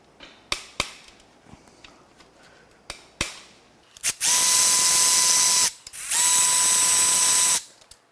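A hand ratchet works on a connecting rod of a Ford 4.6L modular two-valve engine during a teardown: several sharp separate clicks, then two long, loud, steady buzzing ratchet runs close by.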